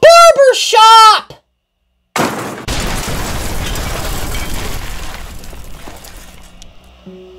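Cartoon train engine smashing into a barber shop: a loud crash and rumbling debris burst in after a brief silence, following a short stretch of animated voice at the start.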